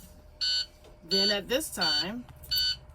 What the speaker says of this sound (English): At 60, you hear the alarm goes off.